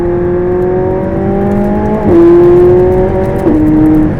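A 2016 McLaren 675LT with a 666-horsepower engine pulls hard from inside the car. The loud, close engine note climbs steadily, drops sharply at two quick upshifts, then keeps rising.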